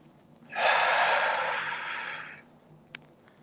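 A single long, forceful exhale through the nose or mouth during a yoga breathing exercise, loud and close, swelling quickly and tapering over about two seconds, followed by quiet and a faint click.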